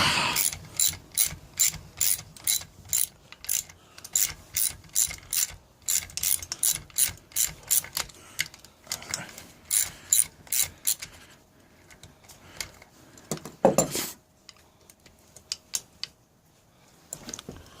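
A hand ratchet clicks in quick rhythmic bursts while undoing a bolt during a pocket bike build, close and loud, then pauses, with a brief scrape and a few scattered clicks toward the end.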